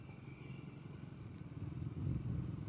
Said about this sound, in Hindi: मुझे इंजन ब्रेकिंग करनी है। मुझे दोनों ब्रेक लगाने हैं, ठीक है, और गियर डाउन करना है, क्लच छोड़ना है